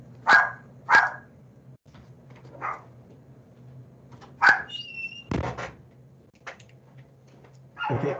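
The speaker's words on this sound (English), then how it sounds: "Dogs are going to start barking in a minute." Dogs barking nearby, a few separate sharp barks spaced across several seconds with quiet gaps and faint background noise, no speech over them.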